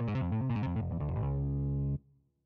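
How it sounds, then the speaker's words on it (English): Guitar notes picked in a quick melodic run, then one bright chord rings out and sustains before being cut off abruptly, leaving a short fading tail. "Guitar. Stringed musical instrument played with the fingers or a pick."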